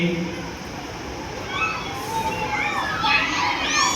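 A child makes high, wavering meow-like cries in imitation of a cat during a puppet show, several short calls rising toward the end amid background chatter.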